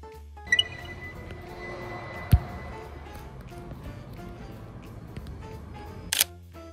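A camera shutter fires with one sharp click midway while a night view is shot through a glass window, faint room hum under it and a couple of softer handling clicks around it.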